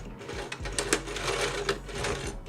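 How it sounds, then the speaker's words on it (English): A sewing machine stitches along the edge of a piece of fabric, running with a steady close mechanical whir and rapid needle clatter. "lower the needle into the piece of fabric. And we're just going to stitch along the edge"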